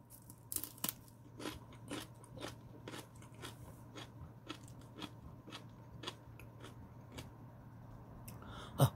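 Crisp, crunchy bites and chewing of urui, a raw wild mountain vegetable dipped in miso, come close and fairly quiet, with repeated crunches spaced roughly every half second.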